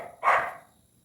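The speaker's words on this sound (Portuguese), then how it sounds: "fui fechar ali a janela, porque a cachorra tava latindo" A female dog gives a single sharp bark indoors at moderate distance, with a short fading tail and nothing else around it.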